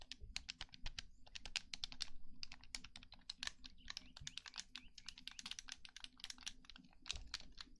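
Clicky keyboard buttons are typed on in quick, uneven bursts of crisp, close keystrokes with brief pauses in between, in a quiet room.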